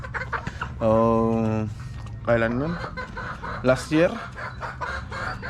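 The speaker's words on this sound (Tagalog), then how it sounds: "So ito yung isang broodcock natin. Malaki na." A large broodcock chicken on a Filipino farm clucks and crows in loud, close bursts, with people talking nearby between and over the calls.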